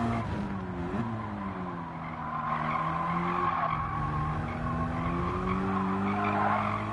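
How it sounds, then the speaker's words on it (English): Tires squeal steadily as a car spins its wheels in the racing game Gran Turismo 7, a continuous wavering screech over the engine drone with no talk. "otherwise any little bit of movement will allow wheel spin"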